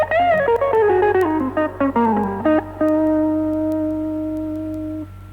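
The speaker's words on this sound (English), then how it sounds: "The basic guitar might sound like this." A plain, clean electric guitar with no effects plays a short run of notes, then holds one sustained note that rings steadily and fades, with no voices.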